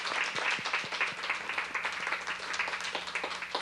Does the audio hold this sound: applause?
yes